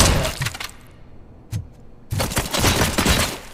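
Gunfire and shattering impacts from a RoboCop: Rogue City shootout, with a dense loud burst of shots, a brief lull broken by a single crack, then another sustained volley of rapid firing and breaking glass.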